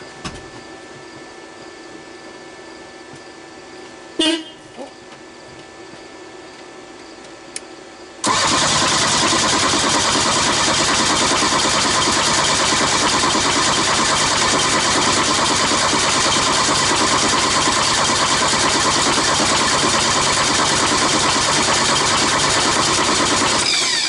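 After a quiet lull with a couple of clicks, a freshly rebuilt Volkswagen Rabbit engine cranks and fires, then settles into a loud, steady idle that stays close and continuous.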